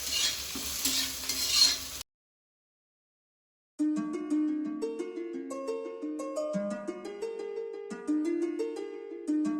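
Ginger and garlic pieces hit hot oil in a pan with a short burst of bright sizzling, then silence and soft background music take over.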